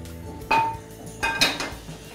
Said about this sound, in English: I'm first going to add a couple of spoons of oil. And just spread it around in the pan.